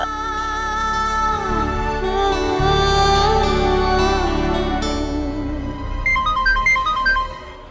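A mobile phone ringtone for an incoming call in a Hindi TV drama, a loud melodic tune playing continuously with layered musical tones and a repeating chime pattern near the end.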